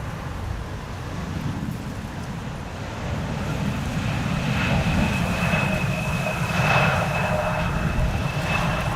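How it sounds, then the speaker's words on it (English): KLM flight 914 from Aberdeen comes in to land at Amsterdam Schiphol during Storm Bert. A steady jet-engine rumble with a thin high whine builds gradually over gusty wind noise. "This is KLM flight 914 arriving from Aberdeen, Scotland."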